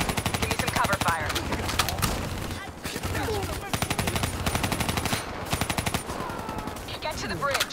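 Rapid automatic gunfire from the Call of Duty Black Ops 3 video game, dense machine-gun bursts with brief pauses between volleys, loud and close, over a busy battle din.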